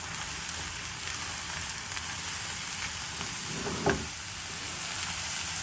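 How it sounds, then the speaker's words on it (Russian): Mushrooms sizzle steadily in a frying pan for a pancake filling, a continuous crackling hiss with a brief scrape as they are stirred midway. "Грибы добавили в сковородку. И теперь перемешиваем."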